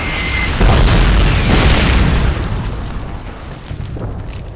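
Loud, deep explosion booms in the Call of Duty 2 St. Mere Eglise level, a heavy rumbling blast that rolls on for a couple of seconds and then fades into lingering low battle noise.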